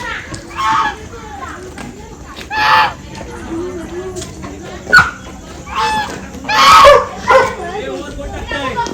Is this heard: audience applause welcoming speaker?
no